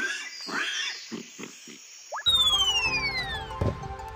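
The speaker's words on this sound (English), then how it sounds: "Pig." A cartoon pig in a children's letter-learning animation gives a series of short grunting oinks, followed by a springy, boing-like sound effect.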